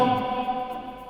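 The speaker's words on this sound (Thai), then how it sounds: "คือมันเป็นโหมดที่จะมีเสียงก้อง" A Xiaomi Mijia karaoke microphone in super reverb mode carries a sustained tone that rings on in a long, hall-like echo, fading slowly over about a second.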